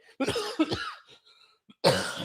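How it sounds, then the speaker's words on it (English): Two harsh coughs close together, then a short pause and another loud cough, near and clear with no talking. "nasty cough"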